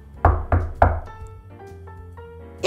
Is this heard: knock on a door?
yes